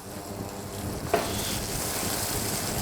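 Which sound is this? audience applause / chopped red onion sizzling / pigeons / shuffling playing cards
chopped red onion sizzling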